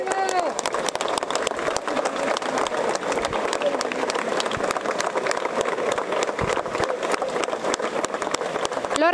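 Outdoor crowd applause for Lorena at the Vara procession in Messina, dense continuous clapping throughout with cheering voices and a sustained crowd roar beneath, fairly loud and steady.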